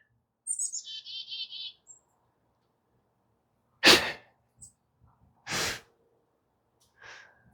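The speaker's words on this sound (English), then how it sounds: "Chickadees are making some noise today." Chickadees call outdoors with a quick run of high, trilled chirps early on. Later come a few sharp, breathy bursts and a faint call, with long quiet gaps between.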